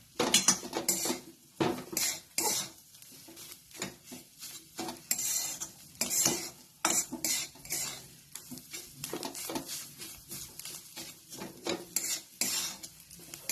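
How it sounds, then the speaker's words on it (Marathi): Mixed vegetable tikki mixture being stirred in a pan on the stove, with repeated scraping and clinking of the spoon against the metal pan in an irregular rhythm, close and fairly loud, with no talk. "आता थोडासा गॅस मोठा करायचा आणि पुन्हा चांगला हलवून घ्यायचा"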